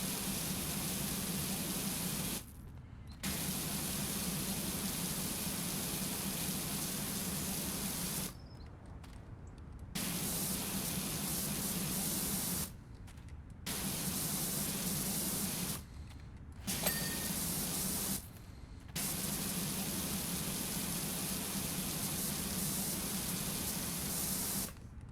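A pressure washer sprays through a yellow nozzle during cleaning, giving a loud, steady broadband hiss in long bursts broken by several short pauses where the trigger is released.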